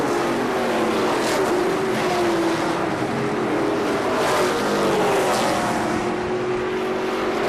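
Race cars roar together around the KilKare Speedway oval during the Dayton 100, a loud sustained engine drone with rising and falling pitch as cars run side by side.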